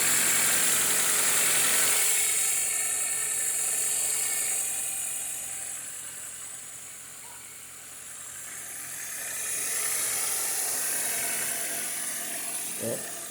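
Toyota Corolla engine running smoothly after a repair, a steady idle with a hissy mechanical whir that dips in the middle and rises again, and a brief knock near the end.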